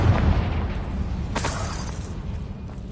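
A Confringo blasting spell goes off in Hogwarts Legacy, a single sharp burst with a hissing crackle rising over a low rumbling ambience, moderately loud and brief.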